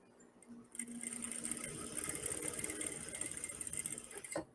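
Sewing machine stitching a narrow hem on sheer, transparent fabric, a steady close whirring run of rapid needle strokes lasting several seconds before stopping with a click.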